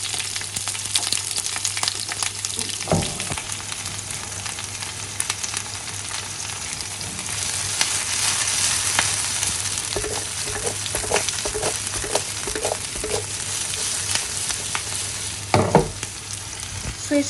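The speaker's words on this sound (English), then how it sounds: "now I will saute the onions" Onions sauteing in two spoons of olive oil over a high flame for chicken jalfrezi give a steady, dense sizzle, with occasional scraping stirs and utensil knocks near the start and end; no one speaks.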